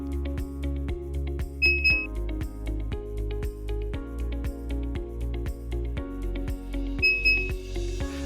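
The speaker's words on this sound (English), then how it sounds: "Press and hold the registration button and wait for 3 sets of beeps." A Samsung SHS-3321 digital door lock beeps during a factory reset: two sets of short, clear electronic tone sequences ring out close by, separated by a stretch of quieter steady electronic hum.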